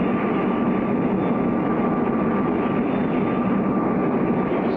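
Steady, loud roar of an aircraft in a supersonic and 9G pull-out test flight in a 1959 cartoon, droning on evenly and close with no talk over it.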